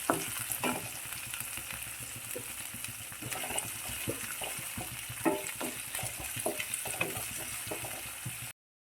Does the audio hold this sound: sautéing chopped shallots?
yes